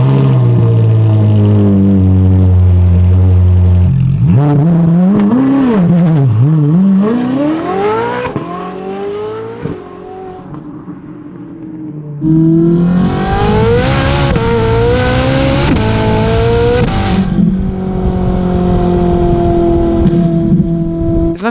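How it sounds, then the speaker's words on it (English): Ferrari 458 with a high-revving V8 and aftermarket exhaust, loud and close, climbing through several rising and falling rev sweeps, then a sustained high-rpm wail with no talking. "So the sound of this Ferrari obviously now has aftermarket exhaust."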